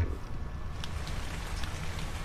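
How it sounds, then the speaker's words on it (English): Steady rain falling in the Ark Survival Evolved video game, a continuous dense patter on surfaces with no talking, holding an even moderate level throughout. "Oh, and it just started raining."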